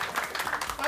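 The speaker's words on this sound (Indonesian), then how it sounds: "Kita kasih tepuk tangan dong." Audience applause from a crowd at a televised variety show, steady clapping through the whole short moment with some voices mixed in.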